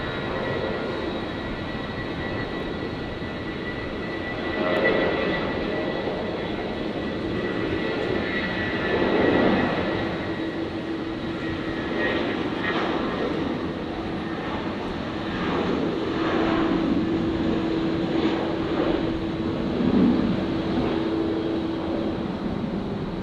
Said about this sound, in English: I'll stick with the Qantas 330 for now, as it taxis on past us.